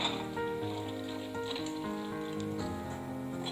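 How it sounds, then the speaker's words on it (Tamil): Cut okra fries in hot oil in a kadai for bhindi masala, a soft, steady sizzle with light crackling heard beneath background music. "எண்ணெய் சூடானதும் இதுல நம்ம ஏற்கனவே கட் பண்ணி வச்சிருக்கிற வெண்டைக்காயை சேர்த்துக்கலாம்."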